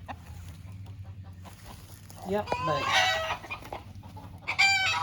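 Chickens in a backyard pen cluck and a rooster crows, fairly close, with brief talk from a person mixed in.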